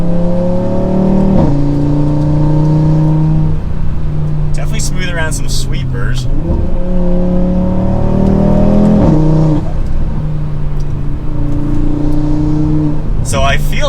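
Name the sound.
Audi RS3 car driving in RS performance mode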